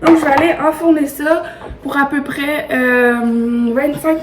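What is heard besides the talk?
No everyday noises stand out.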